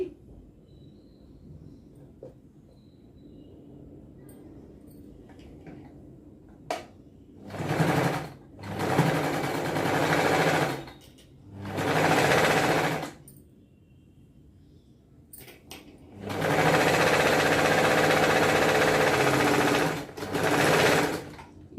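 A sewing machine stitches the front of a blouse with a princess-cut shape in several separate loud bursts of steady whirring, with quiet handling gaps between runs and the longest run near the end.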